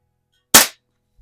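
A single sharp, close crack from an Umarex Markpoint budget pellet pistol firing, standing alone in silence and fading fast, followed by a faint low thump.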